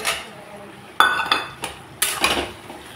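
Metal spoon scraping and clinking against a cooking pot while fish head and cabbage curry with peas is stirred, a few sharp clanks at intervals over a soft steady background.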